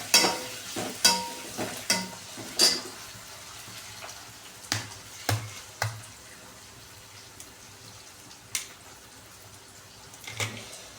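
Onion sizzles in a pan with scattered sharp clinks of stirring and a soft background hiss that fades over the clip.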